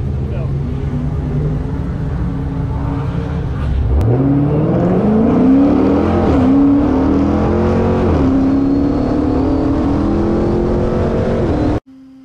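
Traxxas Rustler 3S and Challenger RT Shaker RC cars race at a Showtime event, their electric motors giving a loud, rising whine that climbs steadily in pitch for about eight seconds before cutting off abruptly.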